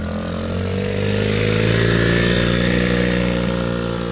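A Beta 300 dirt bike engine runs steadily close by, a loud buzzing drone with a slight rise in revs partway through, no voices.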